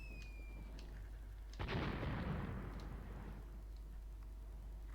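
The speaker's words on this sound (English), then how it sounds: "apparently this is where the mortars are targeting" A mortar shell explodes in the World War II tactics game Graviteam Tactics during the Second Battle of Kharkov. One sudden deep boom sets off a rumbling roar that fades over a second or two, heard against quiet ambient noise.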